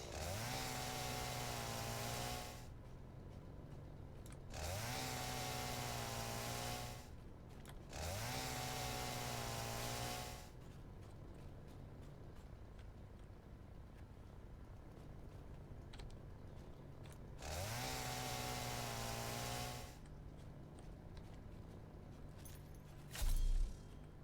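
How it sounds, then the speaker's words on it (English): A chainsaw clears trees in a train-building video game, revving in four separate bursts of a few seconds each with quieter gaps of faint clicking between them, steady and moderately loud, no voices over it. "let's get the chainsaw out for a sec because we need to clear all this."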